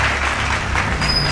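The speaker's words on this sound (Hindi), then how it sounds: "जोरदार तालियों से आप उनका स्वागत करें" An audience applauds to welcome Dr. Daulat Ram Sharma onto the stage at a Shaam-e-Sukoon poetry and song evening, a steady wash of clapping filling the short moment.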